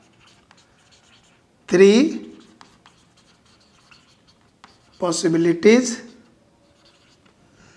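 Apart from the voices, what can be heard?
writing during a maths lesson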